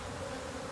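Honey bees buzz steadily during a natural hive division, a dense continuous drone held close and even throughout with no voices.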